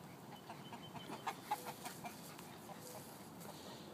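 Several chickens, mostly Araucanas, clucking softly in the background, scattered bursts over a low ambient hum, no talking.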